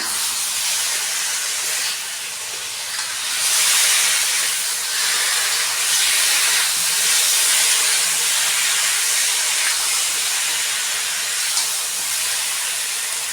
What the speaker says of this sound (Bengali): এখন আমি ভেজে রাখা আলু রসুন পেঁয়াজ দিয়ে দিচ্ছি আবারও মিলিয়ে নেব